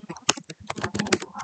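Rapid close clicking of keys on a computer keyboard as data is typed into a spreadsheet, an uneven burst of taps with no voice.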